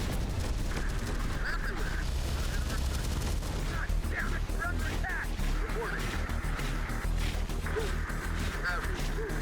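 Rapid gunfire and impacts in the video game Terminator: Dark Fate Defiance, with dense continuous bursts and explosions filling the whole stretch.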